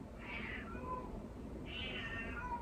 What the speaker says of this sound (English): can you hear my cat screaming?